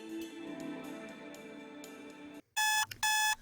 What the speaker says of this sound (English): I swipe 4 times at my phone's alarm instead of the usual 2.